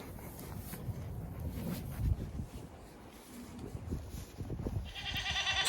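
Farm goats bleat in short, scattered calls close by, mixed with rustling and handling noise, with a sharper, louder cry near the end.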